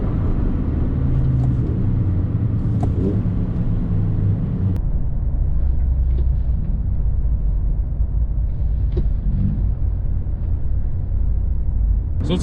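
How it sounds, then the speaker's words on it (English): Car engine decelerating in fourth gear while set up for heel-toe rev-matched downshifts, a steady low rumbling drone with road noise throughout, fairly loud and close, with no talking. "So we're in fourth gear. I'm going to start slowing down now."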